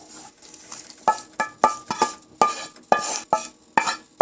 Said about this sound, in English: here goes the tadka